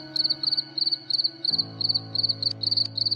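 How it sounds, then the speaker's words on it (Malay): Baby crickets on a cricket farm chirp in quick repeated trills, about a dozen short rhythmic bursts close by, alone over a faint steady hum. "Ini adalah baby cengkerik"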